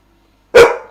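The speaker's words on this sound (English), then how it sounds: "What are you barking at?" A single loud, close dog bark bursts out after a short silence, sharp at the start and trailing off quickly.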